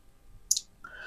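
A single computer mouse click lands about halfway through, brief and fairly close, in an otherwise quiet room, followed by a faint higher tone.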